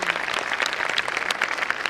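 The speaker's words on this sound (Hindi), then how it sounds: "तालियां बजाते रहिए" Audience applause for a consolation prize winner at a pharmacy conference valedictory function: steady, dense clapping from a crowd, continuous and fairly loud throughout, with no voices over it.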